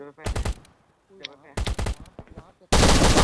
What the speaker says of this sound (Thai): ป้อมมันยังยิงกูอยู่